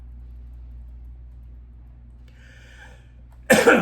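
After a quiet stretch with a low engine hum, one sudden loud cough bursts out close to the microphone.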